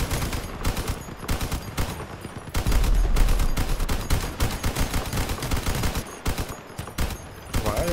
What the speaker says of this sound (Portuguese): A gente dispara tudo junto.